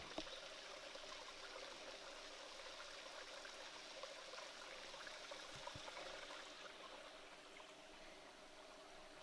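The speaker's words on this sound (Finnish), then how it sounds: "Tuolta jonkunlainen puro tulee tonne ylös ja sen Vesi tippuu tosta." A small waterfall on a stream in Finland's Korouoma gorge, water trickling and splashing down in a steady, close, continuous rush with no voices.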